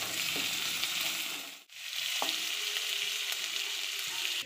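Onions fry in hot oil in a wok, a close continuous sizzle with a brief dip partway through and a few stirring knocks, no voices.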